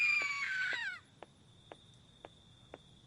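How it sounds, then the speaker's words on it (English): Screams in the horror video game Welcome to Doll Town: a loud, shrill, harmonically rich cry for about a second, then sharp regular ticks or knocks in a quiet, eerie space. "obviously we have to go towards the screams."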